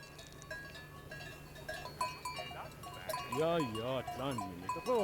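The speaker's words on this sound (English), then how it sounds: "Heini Binar climbs up to the highland fields once a week to tend his flock of 120 sheep." A flock of 120 sheep on a high Alpine summer pasture near the Matterhorn, several bleats rising in the second half over steady outdoor ambience, moderately close and faint, with a voice talking.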